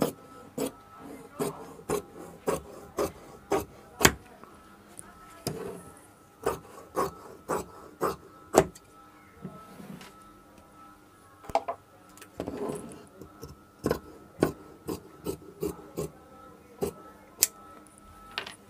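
Fabric for a tailored chos pajama being cut with scissors, a series of sharp, evenly spaced snips and rasps sounding close and fairly quiet with short pauses between cuts.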